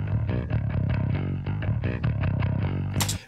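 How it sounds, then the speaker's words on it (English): Unprocessed death metal bass guitar, a raw, cleaner low tone playing rapid, rhythmic picked notes with distinct attacks, moderately loud and alone for about three seconds before an abrupt stop. "So this is the original bass."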